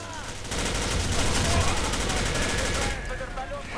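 Rapid automatic gunfire in the online shooter Arctic Combat, a dense sustained burst of crackling shots lasting a few seconds before tapering off, with game noise around it.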